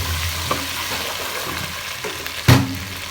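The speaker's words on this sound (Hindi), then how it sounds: "प्याज हमारा ब्राउन हो चुका है, इसमें लहसुन अदरक का पेस्ट ऐड करेंगे और इसे अच्छी तरह मिक्स करेंगे।" Browned onions frying in a pan with garlic-ginger paste stirred through them, a steady close sizzle with scraping stir strokes and a sharper clatter near the end, no talking.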